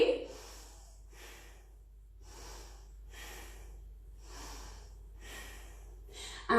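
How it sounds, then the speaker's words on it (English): Slow, rhythmic yoga breathing during a yogalates class: six or so soft, airy inhales and exhales in a steady cycle, close and quiet, with a brief voice at the end. "Breathe for 3."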